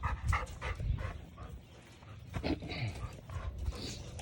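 A female breeder dog on a homestead whimpers and lets out short barks and pants, close by, in uneven bursts with brief pauses between them.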